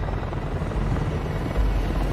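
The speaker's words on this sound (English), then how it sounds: "What is that? Chopper." A helicopter approaching in Shadow of the Tomb Raider, a loud, continuous low rotor thrum and engine roar that swells slightly toward the end, close and dominant.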